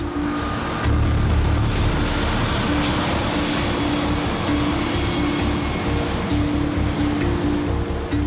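A Malaysia Airlines jet airliner on the MH370 flight takes off in calm, near-perfect conditions, giving a steady, loud, continuous engine roar with broadband rushing noise and a sustained low hum, with no talk.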